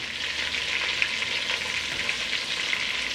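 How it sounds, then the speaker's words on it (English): Pig wings browning in a hot pan for osso bucco, a loud, steady close-up sizzle with constant crackling and spitting fat, no voices. "So what you want to do is you want to brown these all off on each side."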